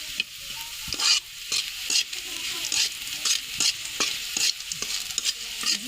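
Onions and cumin seeds fry in a pan while a spatula stirs them, for a home-cooked eggplant and pea curry. A steady sizzle runs throughout, broken by repeated sharp scrapes and knocks of the spatula, with no talking.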